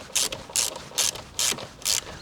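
A ratchet wrench on a 13 mm nut at a scooter swing arm clicks in five evenly spaced bursts, close and crisp, with no one speaking.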